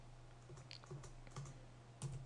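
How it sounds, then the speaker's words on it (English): Computer keyboard typing while a page name is entered into a Facebook friend list search box, a quiet string of irregular light key clicks up close with a few slightly louder taps. "you're typing again the name of a page that you want to add"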